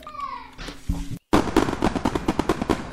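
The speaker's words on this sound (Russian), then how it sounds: "что за салют?" Rapid crackling bursts of fireworks in the Roblox game Build a Boat pop densely after a brief game tone, loud and continuous with a short silent gap.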